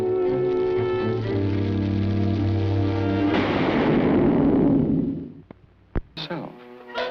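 A cartoon firecracker goes off in a classic Woody Woodpecker short, a broad roaring blast that swells out of sustained orchestral music and decays over a couple of seconds, followed by a few sharp pops as the music resumes.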